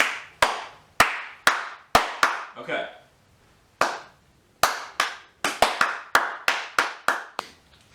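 Sharp, close hand claps used to line up picture and sound while working on new fork seals for a WR400 motorcycle, sounding singly and then in quicker runs, with a brief spoken word in a short pause.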